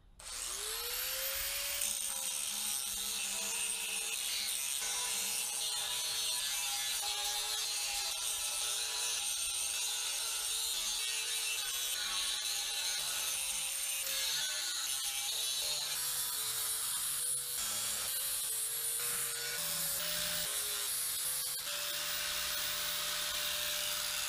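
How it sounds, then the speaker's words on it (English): Flap disc on an angle grinder working a pancaked C10 crossmember, a continuous loud high whine with shifting pitch as the disc bites the steel, running steadily throughout without speech. "that is the pass with the flappy disc"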